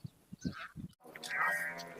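Jafarabadi and Haryana Murrah buffaloes low in a livestock yard, several short grunting moos in the first second followed by a longer, louder bellowing call, with no talking.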